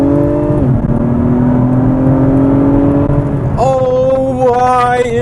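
A 2021 Acura TLX Type S accelerates hard uphill, the engine note climbing steadily, dropping as it downshifts, then surging again in loud rising revs heard from inside the cabin.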